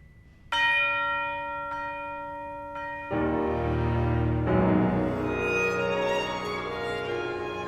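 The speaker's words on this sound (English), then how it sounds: "the beautiful and solemn sound of the bell was heard so deep from within the woods" A deep, solemn bell rings out in a few resonant strikes, each leaving a long humming decay that overlaps the next, ringing full and unaccompanied.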